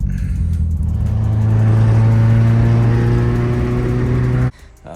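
A 2012 Ford Shelby GT500 fitted with a supercharger pulley revs loudly up close, its engine climbing and holding a strong, rising roar before cutting off abruptly near the end.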